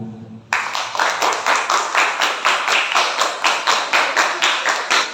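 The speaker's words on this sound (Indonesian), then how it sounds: "Silakan tepuk tangan." An audience at an Eid al-Fitr gathering claps hands together in a steady, rhythmic unison, about four sharp claps per second, loud and close, starting abruptly and continuing evenly throughout without talk.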